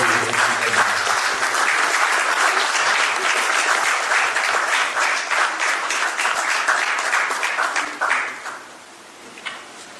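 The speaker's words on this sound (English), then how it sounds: "Please, ladies and gentlemen, a round of applause for Mr. Jerry Ejikeme." A crowd at a Nigerian British awards gala night bursts into loud, sustained applause, with dense clapping that holds for several seconds before fading out abruptly.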